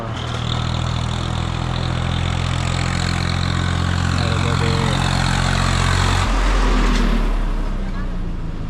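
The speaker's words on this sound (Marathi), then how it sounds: "तिकडून काही येतात ट्रॅक्टरवाला" A tractor engine drones loud and close on a forest road in the Satpura hills, a steady idling rumble that holds for most of the time before dropping in pitch near the end.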